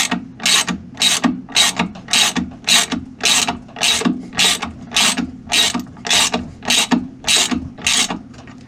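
A ratchet wrench tightens the rotor bolt on a Whirlpool Duet washing machine, clicking in about fourteen rhythmic bursts of rapid pawl clicks. The strokes are close, loud and evenly spaced, with no talk.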